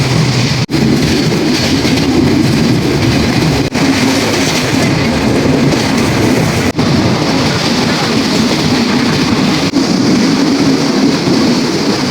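Loud, steady rumble of a local passenger train between Khulna and Jessore, Bangladesh, rolling along the rails, with a few sharp clicks of wheels over rail joints, heard from inside.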